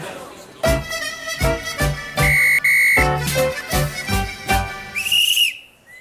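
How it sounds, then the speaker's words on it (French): A shrill whistle blast cuts through a rhythmic musical backing, with a second, sliding whistle tone near the end. "Un coup de sifflet d'ambassadeur, s'il vous plaît"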